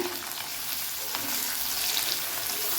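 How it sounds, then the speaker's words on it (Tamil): Sliced big onions sauté in oil with cumin seeds in a pan for tomato chutney, giving a close, steady, hissing sizzle throughout. "சீரகம் போட்டோடனே நான் பெரிய வெங்காயம் போட்டுக்கிறேங்க"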